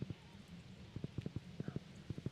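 Horse hooves clip-clopping in Stardew Valley, soft quick clusters of hoofbeats in a light rhythm with gaps between runs, fairly faint and close.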